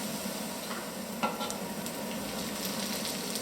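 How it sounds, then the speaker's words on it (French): Onions cooking with honey in a pan over very low heat, stirred with a steady soft sizzle and occasional light scrapes, heard alone with no talking. "On mélange bien et on relaisse tranquillement, à feu très très doux toujours"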